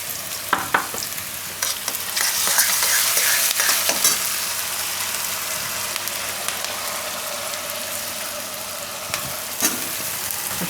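Paneer and corn curry cooking in a pan, stirred now and then, giving a loud close sizzle and bubbling with spoon scrapes and knocks against the pan, steadiest in the middle stretch.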